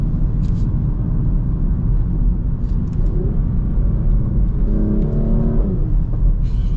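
Cabin sound of a 2025 Porsche Macan GTS accelerating: a loud, constant engine rumble and road roar with brief pitch changes as the automatic transmission shifts.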